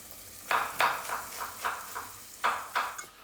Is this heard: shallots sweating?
yes